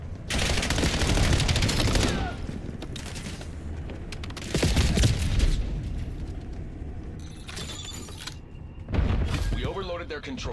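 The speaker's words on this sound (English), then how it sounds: "Hostile grenade." Bursts of gunfire and explosive blasts from Call of Duty Black Ops 7 multiplayer combat, loud and repeated in three heavy clusters, with a game voice calling out over the fighting.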